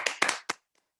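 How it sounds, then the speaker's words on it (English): A single person claps a few times near the microphone during a talk on faith and hope: three or four sharp, close hand claps within half a second, then silence. "I'm going to give you a little round of applause here."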